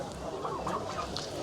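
Chickens and roosters at a busy poultry market in Sabunchu, clucking and calling at a few spots across a short stretch, nearby and moderately loud over a steady background of market crowd noise.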